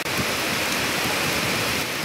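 Heavy rain pouring down outdoors, a dense, even hiss of drops close by, steady and unbroken throughout.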